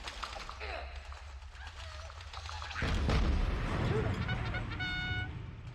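Sentry turrets firing in Dungeon Keeper 2, a deep rumbling barrage that breaks out partway through and keeps booming under game effects and chimes.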